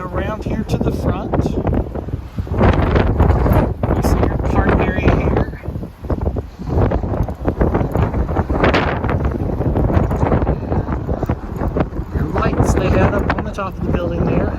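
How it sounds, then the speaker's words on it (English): Strong wind buffets the microphone in loud, continuous low rumbling gusts outdoors at an abandoned store building, with a voice partly buried in the roar. "Wind's picking up again."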